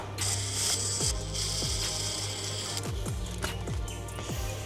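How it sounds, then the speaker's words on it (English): Screws being driven back into a 10.1-inch aftermarket touchscreen unit for a Jeep, heard as a series of close, sharp ratcheting clicks and short mechanical turns repeating at irregular intervals. "Then you can screw in all the million screws that you took out before."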